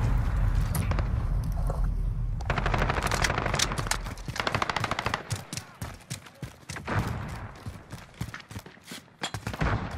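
Rapid automatic gunfire and single shots from the video game Modern Warfare during a deathmatch, dense bursts of sharp cracks with brief pauses, loud and close throughout the ten seconds with no speech.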